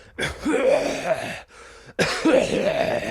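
A man imitates a deep, guttural cough with his voice, two rough, drawn-out bursts separated by a brief pause, close and loud.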